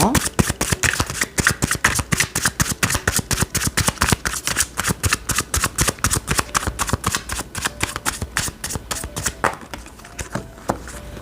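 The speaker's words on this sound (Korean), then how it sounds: "추가 카드 뽑아서 한번 던져 볼게요" Tarot cards being shuffled by hand, a fast run of crisp riffling snaps and flicks repeating steadily throughout with no talk.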